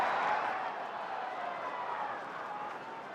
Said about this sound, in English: Crowd getting behind Ohtani, urging him on.